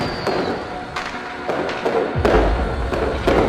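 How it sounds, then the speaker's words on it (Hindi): New Year fireworks burst in a movie scene: a run of sharp, close cracks and thumps about every half second, with one heavy low boom partway through. "वाह, कितनी बढ़िया आतिशबाजी है।"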